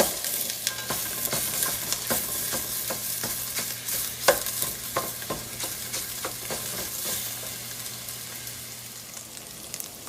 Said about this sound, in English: we've got our sausage all cooked down and crumbled up nicely here